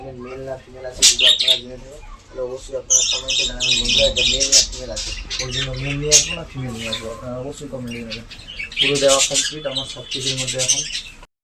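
Pet budgerigars chatter and squawk busily while eating soft food, a steady stream of close, bright chirps and warbles running throughout with brief louder bursts.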